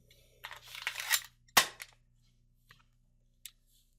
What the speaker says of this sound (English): To dry fire the gun, rack the bolt, insert an empty magazine